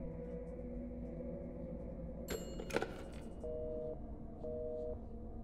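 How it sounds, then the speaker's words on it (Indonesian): A telephone in the Beneviento house in Resident Evil Village fails to connect, giving a sharp clatter as the receiver is lifted and then flat, repeating electronic tones over a quiet, humming game ambience. "teleponnya nggak bisa nyambung ya guys"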